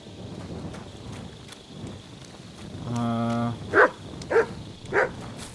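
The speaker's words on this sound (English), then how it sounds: "What are you barking at?" Dog barking in the video game Kingdom Come Deliverance II, three short sharp barks at a moderate distance, coming in an even rhythm after a brief harmonic tone.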